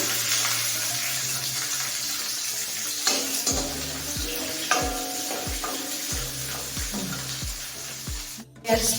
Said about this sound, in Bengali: প্রথম আমি রসুন কুচিগুলো দিয়ে ভালো করে লাল লাল করে ভেজে নেব।